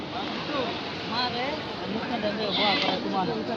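Several goats bleat in overlapping wavering cries at a livestock market, backed by a steady babble of voices and crowd noise.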